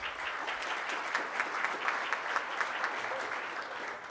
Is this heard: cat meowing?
no